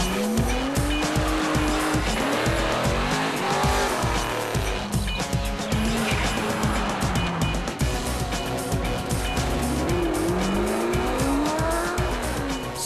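Rally cars work through a tight auto test, the engines revving hard and rising and falling without a break while the tires squeal in repeated swooping chirps through the corners, loud and close with no talking.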